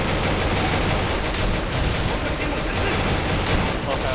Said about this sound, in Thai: ตอนนี้ก็ ยิงไปเรื่อยๆ